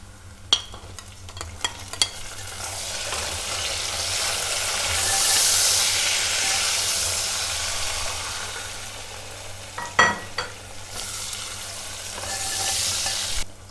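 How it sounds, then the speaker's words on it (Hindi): Tomatoes are stirred into frying onion with ginger-garlic paste for Punjabi sarson ka saag, a steady close sizzle with spoon scrapes and clacks against the pan, swelling into hissing steam at times. "अब हम इसमें टमाटर ऐड करेंगे।"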